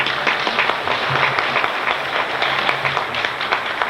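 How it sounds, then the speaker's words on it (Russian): Audience applause fills a beauty pageant hall, a dense, steady wash of many hands clapping throughout with a faint hum beneath. "мы бы хотели, чтобы вы поддержали нас горячими аплодисментами"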